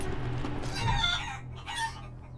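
Chickens in the video game Wasteland 3 cluck and squawk in two short, excited bursts over a low, steady game ambience.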